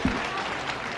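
A crowd at Peter Marshall's 97th birthday celebration applauds, a brief, dense burst of many clapping hands at a fairly even level, with a faint voice briefly at the start.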